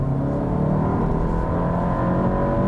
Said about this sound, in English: It also really likes to rev.